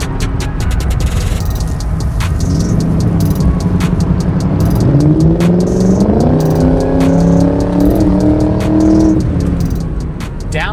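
A 2003 Ford Mustang Mach 1 with the 4.6 V8 pulls away on bumpy roads, its engine note climbing steadily through the gears under constant road and cabin noise, with brief clicks and rattles.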